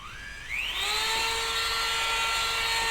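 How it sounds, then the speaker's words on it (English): A high-pitched whine rises quickly as a small rotary tool spins up to cut brake cable wire, then holds a steady, fairly quiet tone for about two seconds. "And now I'm ready to cut the wire."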